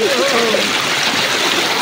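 Water splashes and rushes as people wade through a stream, a loud, close, continuous churning with a voice briefly heard over it.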